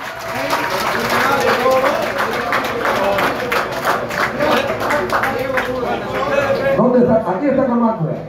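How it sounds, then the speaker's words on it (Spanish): Audience at a Cuban décima poetry event in Güines claps steadily through the whole stretch, a dense continuous patter with crowd chatter mixed in and voices under the applause. "quiero dar un aplauso que me tumba el techo por mí."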